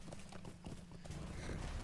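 Horse hooves clip-clop steadily in The Lord of the Rings Online, a quiet, even rhythm of hoofbeats with faint game ambience and no talk.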